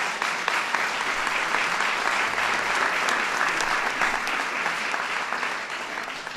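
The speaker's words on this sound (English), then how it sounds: "That's worth an applause right there." An audience at a White House event honoring the 2012 NCAA champion Baylor women's basketball team bursts into loud, sustained applause that fills the room and tapers slightly toward the end.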